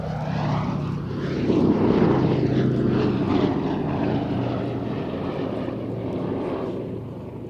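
Sally B, a vintage propeller aeroplane, flies at Cosford Airshow with a steady droning piston-engine roar that swells a little and then holds, continuous and fairly close, with no voices over it.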